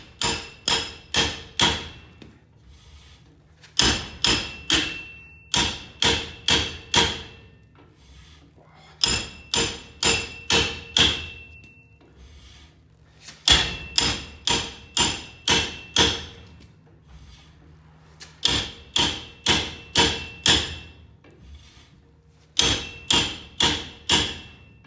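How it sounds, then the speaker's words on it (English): A regular hammer strikes Jeep Willys brake parts in rhythmic bursts of four or five sharp metallic blows, each group separated by short pauses, close and loud with a ringing edge. "Try this with a regular hammer."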